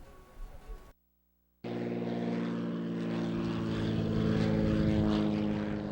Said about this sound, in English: 19-year-old Matt Guthmiller landed his plane with ease at Gillespie Field